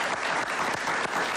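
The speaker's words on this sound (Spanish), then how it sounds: "Un aplauso para ella." Steady, full applause from an interview audience fills the whole short stretch at a loud, even level.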